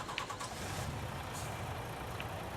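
A truck in Farming Simulator 19 rumbles with a steady low engine drone that runs throughout, with faint hints of reversing beeps over the hum.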